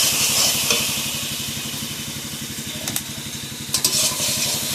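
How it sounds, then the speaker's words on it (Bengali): Spice paste with plenty of onion fries in a pan for a crab curry, giving a loud, close, steady sizzle with a low rhythmic pulsing underneath and a few sharp utensil clinks near the end. "এবার আমি মশলাটাকে ভালোভাবে কষিয়ে নেবো।"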